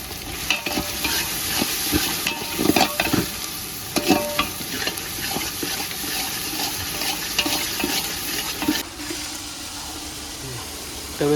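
Vegetables with ginger and green chillies fry loudly in a pan and are stirred, a close sizzling hiss cut by repeated scraping and clattering strokes that ease off near the end.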